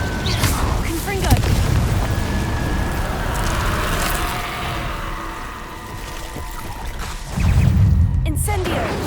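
Confringo blasting spells explode in Hogwarts Legacy, loud rumbling booms with crackling fire bursts, rising near the start and again near the end, continuous and close.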